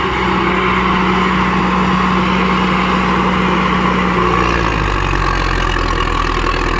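An ACE DI 6565 tractor pulls a big 11-tyne tiller through a field, its diesel engine droning loud and continuous with a slight shift in pitch partway through.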